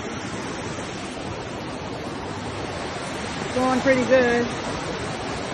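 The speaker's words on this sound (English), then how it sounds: "This is the brook at the pedestrian walkway on the Keystone Arch Trail." Steady rushing water from a brook beside a pedestrian walkway on the Keystone Arch Trail, a continuous broadband wash, with a person briefly speaking over it near the end.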